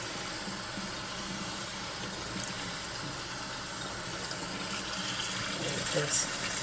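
Rice being rinsed under a running kitchen tap, a steady close hiss of flowing water held at an even level throughout, with a brief splash near the end.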